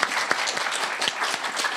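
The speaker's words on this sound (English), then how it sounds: "Can we give another round of applause for Ari?" A room of audience members at a temple lunch and presentation applaud warmly, a thick wash of claps with a few sharper hand strikes standing out, steady throughout and without speech.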